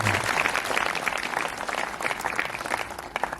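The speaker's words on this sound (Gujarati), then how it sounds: "ખાસ કરીને તાળી પાડીને આભાર માનવા" A congregation at an Easter celebration in Dang claps in thanks, a close, busy patter of applause that stays strong before easing slightly near the end.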